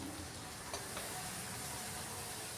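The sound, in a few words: spicy chicken drumsticks frying covered in a pan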